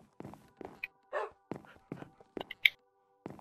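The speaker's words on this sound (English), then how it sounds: "come here, dog." A dog in the Minecraft video game gives a series of short, clear barks and whimpers spaced irregularly across a few seconds, with no talking over them.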